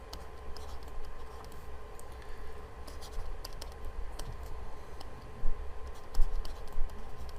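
Pen scratching steadily across paper while notes are written down for a two-sample t-test problem, a close continuous dry scratching with a few louder strokes near the end.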